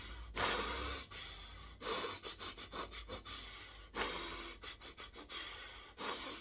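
A voice imitates the rapid, chaotic breathing of Nityananda meditation, with repeated sharp gasping, panting breaths in quick bursts, loud and close, with no talk.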